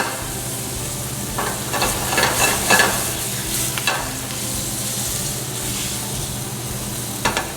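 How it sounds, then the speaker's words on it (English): A pork chop sears in a hot pan, giving a constant crackling sizzle with occasional louder pops and spatters, steady and close throughout with no voices. "you will know when your pork is already cooking by hearing the sound"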